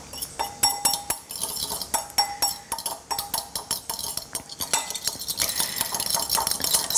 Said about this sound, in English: I would sprinkle a little bit of oregano in here and give it a little stir